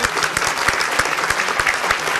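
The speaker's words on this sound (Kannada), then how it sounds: "ಬರ್ಲಿ ಚಪ್ಪಾಳೆ ಯಜಮಾನ್ರಿಗೆ" A studio audience at a Kannada TV game show claps for the head of a household: dense, continuous applause, loud and close, with no talk over it.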